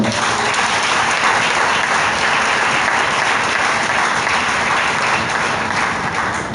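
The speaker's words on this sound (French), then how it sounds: "Est-ce qu'on peut acclamer maintenant pour la parole?" A church congregation breaks into sustained applause, a loud, dense, even wash of many hands clapping together that carries on at full strength with no break.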